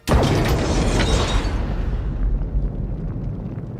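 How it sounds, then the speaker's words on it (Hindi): A sudden loud blast that erupts at once and rumbles on, the crackling roar slowly fading over a few seconds. "ऐसा धमाका कि उनके कान के पर्दे फट गए।"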